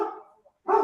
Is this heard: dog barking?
yes